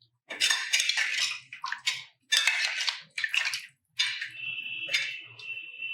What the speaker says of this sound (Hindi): अब इसे एक बार अच्छे से हम बढ़िया मिक्स कर देते हैं